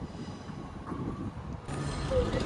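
Avanti West Coast train 805 005 departing London Euston for Chester, its steady rumble and rolling wheel noise building as it pulls away, with a faint squeal of wheels near the end.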